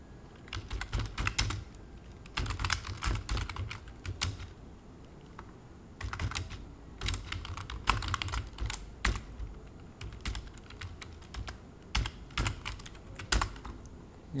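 Someone types code on a computer keyboard close to the mic, with quick bursts of key clicks broken by short pauses in an otherwise quiet room.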